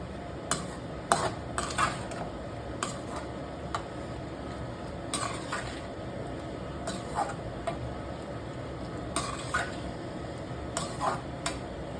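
Boiled chickpeas are stirred into masala sundal in a pan, with a spoon making light, scattered clinks against the metal over a steady low background.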